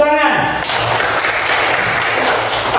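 Schoolchildren clapping together in a fifth-grade primary school classroom at the end of a lesson, a dense, steady round of applause that starts abruptly and continues evenly.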